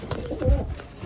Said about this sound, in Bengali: এই যে কবুতরগুলো দেখাই